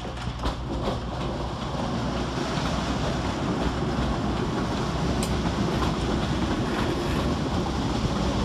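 A West Midlands Railway train arriving to terminate at Wolverhampton station, a steady broad rumble with the sound of rolling wheels and some faint squeals, heard from the platform.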